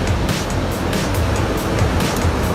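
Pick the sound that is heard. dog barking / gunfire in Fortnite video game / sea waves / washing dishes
sea waves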